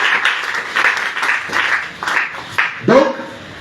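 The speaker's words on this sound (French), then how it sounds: "Si tu peux acclamer, ça fera du bien" Church congregation clapping and calling out during a sermon, bursts of applause rising and falling in waves with voices mixed in, close and fairly loud, ending with a short vocal exclamation.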